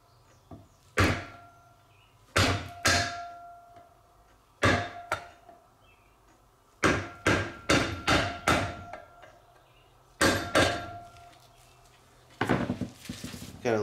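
A hammer strikes a stubborn trailer hub grease seal, denting it during a bearing repack on a trailer with electric brakes: sharp metallic blows, single and in quick runs, separated by short quiet gaps, with faint low handling noise between.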